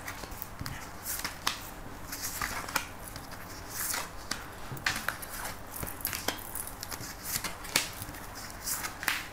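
Cards being shuffled for a tarot-style reading, a continuous papery riffle and shuffle with soft taps, close and moderately loud with no talking.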